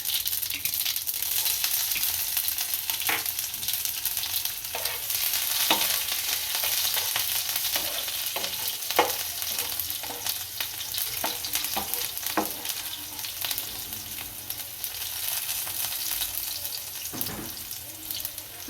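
Half a spoon of mustard seeds and chilies tempering in hot oil on a gas stove for dahi bread: a continuous close sizzle dotted with sharp popping crackles of the seeds, steady and without voices.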